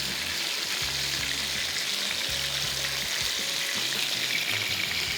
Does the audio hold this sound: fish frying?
yes